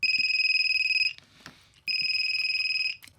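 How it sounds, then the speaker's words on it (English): Electronic beeper from a Radio Shack Executive Decision Maker, buffered through a MOSFET, sounds two loud, steady high-pitched tones of about a second each, separated by a short gap with faint handling clicks. "I'm gonna try to proper buffer this beeper with the MOSFET again"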